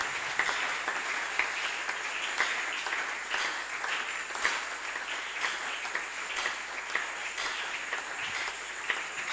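A church congregation applauds loudly during a worship service, a dense, steady wash of many hands clapping at medium distance with no speech over it, sustained for several seconds.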